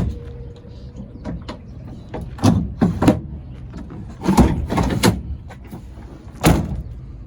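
Tailgate of a 2016 Ford F-150 Lariat Sport pickup lowered with a step assist, bed cover and bed liner: several sharp clunks and latch knocks at close range, spread over a few seconds with quiet gaps between them.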